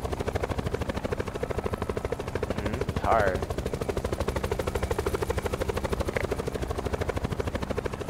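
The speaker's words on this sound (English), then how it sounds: "I have to fly in a helicopter for like 30 seconds." Helicopter rotor thumping steadily through a video game round, a continuous rapid chop that stays loud throughout, with a player talking over it.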